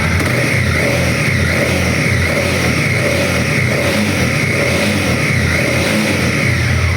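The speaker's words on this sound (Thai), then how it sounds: "ฟังเสียงเครื่องอ่ะเดี๋ยวลองมาเล่นเครื่องกันดีกว่าครับ" A 2018 Honda CB300R motorcycle engine revs steadily and loudly up close, a continuous throaty drone with no speech over it.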